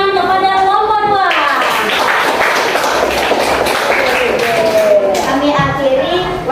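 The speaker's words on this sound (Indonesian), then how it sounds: "beri tepuk tangan kepada kelompok 2" A classroom of students claps for a presenting group during a school lesson, scattered hand claps mixed with children's voices and chatter, with a teacher's voice heard over the top.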